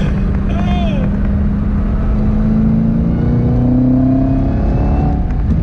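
A car engine fitted with a Roto Fab cold air intake drones loudly with a rising whine as it accelerates, close up, with a brief voice-like tone early on.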